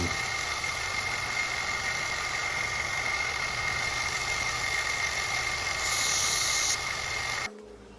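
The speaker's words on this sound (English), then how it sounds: "Grinding a little chamfer on the ends of the pins" Steady, loud grinder whine and hum runs while a small chamfer is ground on the ends of knife handle pins for a Nakiri-style kitchen knife, then cuts off abruptly near the end.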